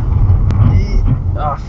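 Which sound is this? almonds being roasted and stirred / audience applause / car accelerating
car accelerating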